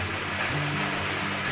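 Heavy rain pours down steadily in a dense, even hiss of drops on surfaces, with no voices.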